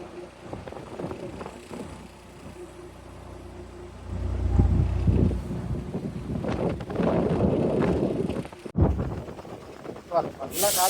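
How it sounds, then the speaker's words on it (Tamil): Strong wind buffeting at Vizag port where a ship is unloading containers, a rough broadband roar gusting louder midway, with someone talking over it. "நல்லா காற்று அடிக்குது."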